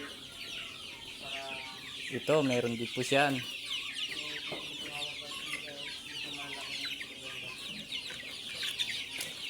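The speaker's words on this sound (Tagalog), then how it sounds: "So hindi lang baka, mayroon silang manok." Chickens cluck and squawk at a dairy farm, with bursts of loud clucking near the middle over steady farmyard background noise, while a person talks briefly.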